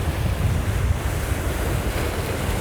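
Sea waves wash steadily onto the shore under gusty wind, with heavy microphone wind rumble throughout; a loud, continuous surf roar with no voices.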